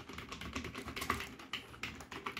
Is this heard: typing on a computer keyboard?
yes